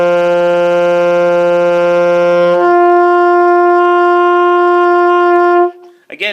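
Saxophone holds a steady low D, then slurs cleanly up to the octave D partway through and sustains it before stopping, loud and close, alone.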